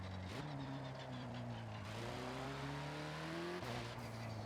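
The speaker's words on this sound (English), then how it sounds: "Now the engine noises hurt." Car engine in a racing video game, a loud steady droning roar whose pitch climbs and then drops back several times as if shifting gears, with no voices.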